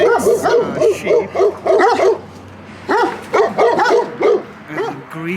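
Two dogs at a village house in Rotunda, Argeș, Romania, bark repeatedly in close, loud bursts, with a yip mixed in and a short pause midway.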